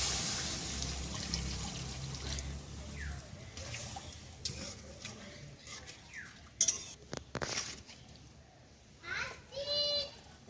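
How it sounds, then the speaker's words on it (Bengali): Water is poured into a pan of cooked-down spice masala for onions stuffed with an egg filling. A soft trickling pour runs under steady background chatter and children's voices, with a few sharp clatters near the end. "এবার আমি জল দিয়ে দেবো পরিমাণ মতো"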